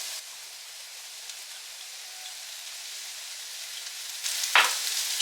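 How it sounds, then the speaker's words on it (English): Shiitake mushrooms fry in sesame oil in a pan, giving a steady hiss of sizzle throughout, with a louder burst of crackling near the end as more is added or stirred. "Then we are also like gonna put the sesame oil now."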